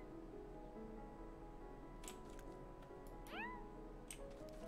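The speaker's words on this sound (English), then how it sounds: "I have a cat." A pet cat in the farming game Staxel gives a couple of short rising meows over a quiet background hum, faint and fairly close, without talk over it.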